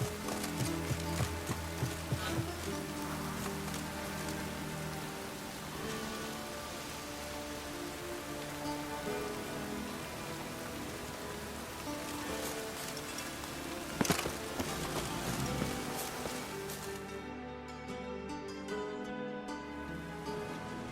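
Steady rain falling over a city street in The Witcher 3, a continuous hiss of drops on surfaces under game music, with a brief sharper splash midway and a softer tail at the end.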